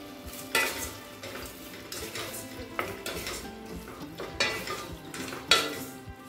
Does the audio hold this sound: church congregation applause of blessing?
no